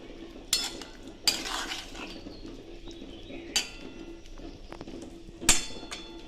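A pot of small-fish curry garnished with chopped coriander, stirred so that a few sharp clinks and scrapes of a metal spoon ring against the pot over a quiet background simmer, with no talking.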